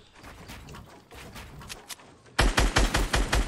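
Fortnite gunfire: faint distant shots give way to a loud, rapid burst of close automatic fire with sharp, evenly spaced reports.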